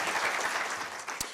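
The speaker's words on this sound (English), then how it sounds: "If we could please have a round of applause for our panel." A breakfast-meeting audience applauds a discussion panel, a short burst of many hands clapping at moderate volume that tapers off, with one sharp close clap near the end.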